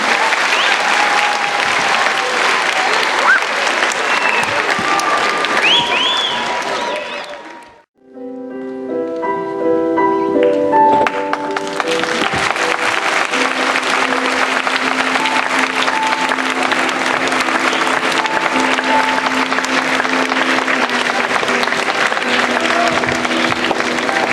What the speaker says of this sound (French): un tonnerre d'applaudissements pour Patrick, Claudie et Elsa